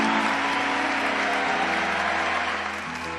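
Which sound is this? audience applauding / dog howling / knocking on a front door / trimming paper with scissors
audience applauding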